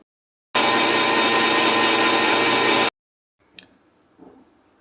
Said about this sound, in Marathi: हे मी वाटण्यास घेणार आहे